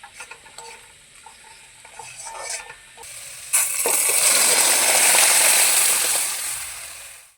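Boiled red lentils are stirred into onions fried brown in tempered oil; light scraping and stirring gives way to a loud, steady sizzling hiss as the lentils hit the hot pan, fading at the end.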